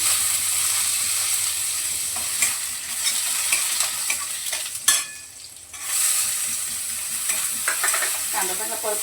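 Cumin, crushed garlic and half a chopped onion sizzle steadily in hot oil for a tempering, a loud continuous frying hiss with occasional stirring clatter and a brief dip in the middle; no one speaks.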